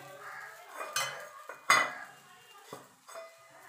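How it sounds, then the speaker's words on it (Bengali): Rice batter being stirred in a bowl, heard as a few distinct scraping clinks of a spoon against the bowl, close and fairly quiet, spaced irregularly with quiet pauses between. "চালের যে গোলাটা করে রেখেছিলাম সেটাকে এইভাবে গুলিয়ে মানে নাড়িয়ে দিতে হবে"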